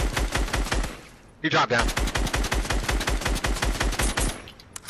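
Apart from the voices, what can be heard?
gunfire in a video game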